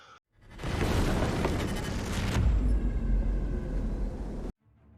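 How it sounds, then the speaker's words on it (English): Mortar fire pounds in combat, a heavy sustained roar with a deep low rumble that swells midway, then cuts off abruptly. "The mortar is still pounding everything"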